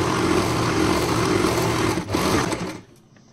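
An Usha Janome sewing machine runs a continuous, loud, close stitching whir with a brief dip partway through before it stops near the end.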